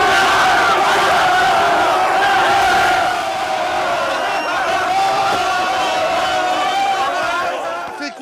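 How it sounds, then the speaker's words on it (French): A big crowd roars and cheers in celebration as Genève-Servette win the European ice hockey title, a loud, continuous wall of voices with shouts and whoops rising over it, easing a little midway but staying strong throughout. "La foule exulte."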